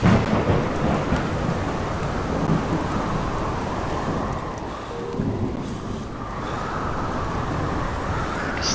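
A thunderstorm with rain in the video game The Solus Project: dense, continuous rainfall hiss with deep rolling thunder rumbling loudly throughout, no voices.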